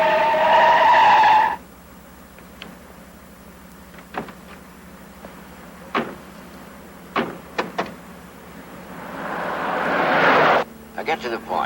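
A car skids to a stop. Speech opens the scene, then scattered faint clunks follow before a rising tire screech swells loudly and cuts off into a few sharp knocks.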